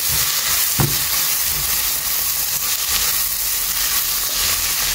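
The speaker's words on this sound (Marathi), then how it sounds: "जिंजर गार्लिकाक बरें हांवें हें फ्राय करून घेयला" Ginger, garlic and onions fry in a pan for a Konkani brinjal bharta, a steady close sizzle with soft stirring scrapes and one sharp clink near the start, no voices.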